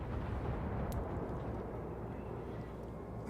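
Naval gunfire in the World of Warships video game, a dense continuous rumble of battle noise with a sharp burst near the start, steady and loud throughout with no clear separate shots.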